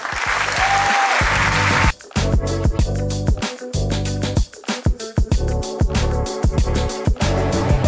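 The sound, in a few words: applause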